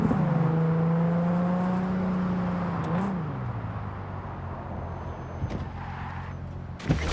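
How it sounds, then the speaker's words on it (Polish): A car engine in the video game Cyberpunk 2077 revs hard at full throttle with a loud droning tone that bends and drops around three seconds, then settles into a rougher rumble with a sharp click near the end. "O, brzmienia samochodu są inne."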